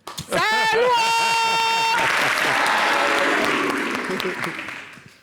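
An audience at a televised entertainment show bursts into loud applause and cheering, with a sung or shouted voice ringing out over the clapping at first before the applause carries on and slowly fades.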